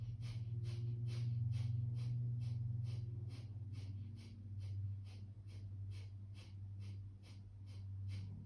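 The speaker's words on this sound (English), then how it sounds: "Belly expands, and 20 quick successive exhales" Rapid breathing exercise of about twenty quick exhales in steady succession, each a short, faint puff over a loud continuous low hum.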